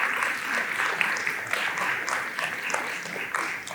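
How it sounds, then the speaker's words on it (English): Gala audience giving a separate round of applause for Professor Moja, dense sustained clapping from a large crowd, steady and fairly loud throughout. "we need a separate applause for Professor Moja tonight"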